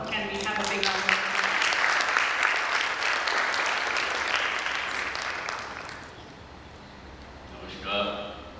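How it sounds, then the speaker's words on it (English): Audience applause fills a graduation ceremony hall, a dense, loud wash of clapping that runs steadily for about six seconds before thinning out, with a voice starting to speak near the end. "Can we have a big round of applause?"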